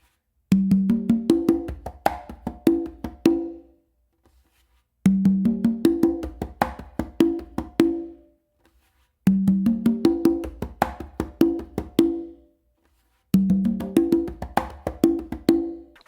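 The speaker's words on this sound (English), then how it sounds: "Now to hear it with the bass and finger, it's going to add a little bit more depth" Funk groove on congas adding low bass tones and soft finger ghost notes, four repeated bars of quick hand strikes with brief gaps between, played close with no talking.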